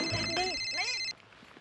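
A phone rings with a bright electronic tone over brief voices, then cuts off abruptly about a second in.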